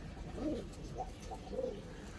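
A small-bodied pigeon among pigeons kept for sale coos quietly, with a few faint, muffled rolling notes spaced apart against a soft room hiss.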